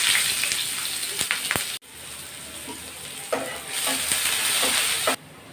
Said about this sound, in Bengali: তেলটা গরম হয়ে গেছে এখন আমি পেঁয়াজ কুচি দিয়ে দেবো